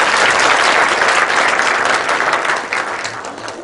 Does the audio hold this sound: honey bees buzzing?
no